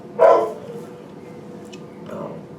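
One sharp, loud dog bark near the start, followed by a fainter yip about two seconds later, from an excited dog reacting to someone outside; room tone fills the gaps.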